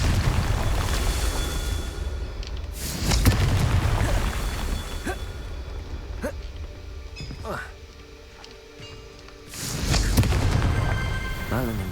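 A Confringo blasting-spell explosion in Hogwarts Legacy, with several loud, booming bursts set against a dense game soundscape of music and effects.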